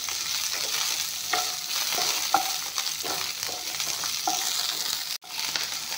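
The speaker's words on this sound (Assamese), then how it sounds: "অকল ভেন্দিখিনি অলপমান ভাজি ল'ম।" Fresh okra being fried plain in a pan with no salt or spices, giving a steady close sizzle broken by repeated scraping stirs of a spatula, with no one speaking.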